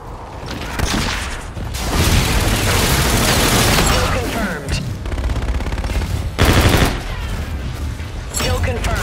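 Rapid automatic gunfire and booming shots from a Call of Duty: Infinite Warfare multiplayer match rattle loudly and almost nonstop, with brief pauses, occasional mechanical clicks and radio-style voices talking over the fight.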